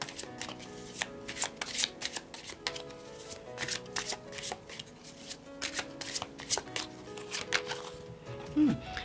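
Oracle cards being shuffled by hand, a steady series of crisp riffling slaps and card flutters over about nine seconds, close and moderately quiet with no talk.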